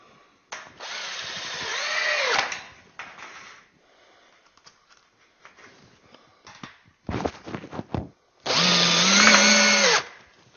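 Power drill driving screws into the metal rails of a door frame for plasterboard partitions, two long whirring bursts with rising and falling pitch separated by quieter handling clatter, close and loud.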